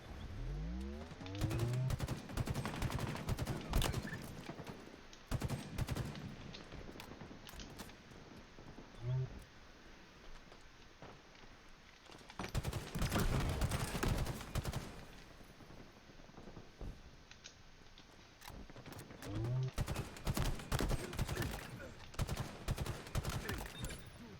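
Gunfire in a competitive video game match, repeated bursts of rapid shots and clattering volleys at moderate loudness, with quieter gaps between exchanges.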